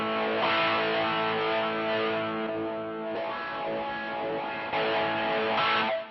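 A sustained, heavily distorted electric guitar chord through a Mooer GE-200 modeler, distortion placed after the amp, rings out buzzy and compressed, with a fuzzy, muffled tone and a short break midway before ringing on again.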